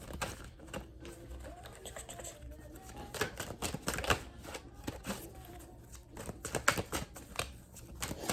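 Reading cards being shuffled, with a quiet, continuous papery riffling and soft irregular clicks and flutters close by, no voice over it.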